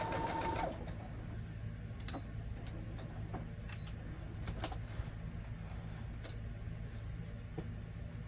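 A sewing machine runs steadily, stitching a seam on a quilted pillow top with a fast even mechanical whir and clatter, close and continuous, with a brief louder burst at the start.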